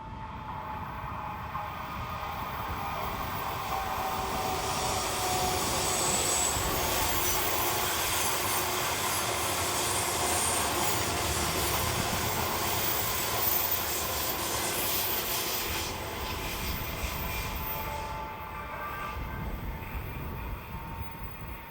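Local passenger train from Bern to Domodossola arriving, a sustained rolling rumble with hissing, squealing wheel noise, steady and moderately near before easing slightly toward the end.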